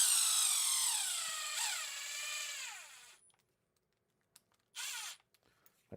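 A power drill drives screws in during a workbench build: a loud, close motor whine runs about three seconds, its pitch sliding downward as the screw seats, then stops and is followed by one short second burst.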